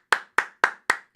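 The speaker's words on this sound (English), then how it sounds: "Round of applause." Five sharp, evenly spaced hand claps from a single person, loud and close, with short gaps of silence between them.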